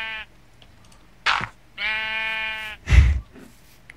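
Sheep in the Minecraft video game bleat three times in a row, each call a clear wavering baa of about half a second to a second, loud and close with short pauses between and no talk over them.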